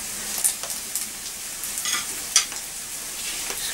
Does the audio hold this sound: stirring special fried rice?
yes